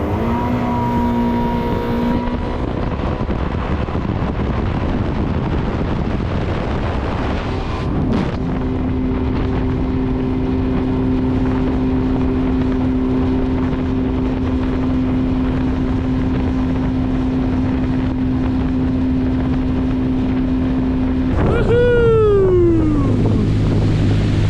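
Yamaha FX Cruiser HO WaveRunner, a 2024 personal watercraft, accelerating to full-throttle top speed, a loud sustained engine drone with rising pitch, wind and water rush, and the engine winding down at the end.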